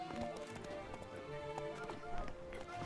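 Rhythmic hoofbeats clop steadily under a soft music and ambient background, like a horse trotting along, in the video game The Witcher 3: Blood and Wine.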